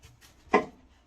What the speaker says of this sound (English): you're going to want to chop up your onions